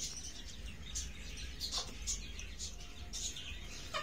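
Pet pigeons and their chicks on a rooftop give soft, scattered chirps and squeaky calls, several short bursts spread over a few seconds against a steady low background hum.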